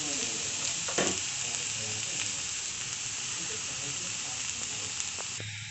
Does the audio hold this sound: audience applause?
no